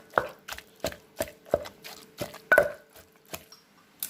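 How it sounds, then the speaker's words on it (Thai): Minced pork and eggplant pounded in a mortar with a pestle, a steady series of about nine thudding, slightly wet strikes roughly every half second, close and distinct with no talk. "ใส่ลงไปแล้วค่ะพี่น้องตำให้เข้ากันค่ะ"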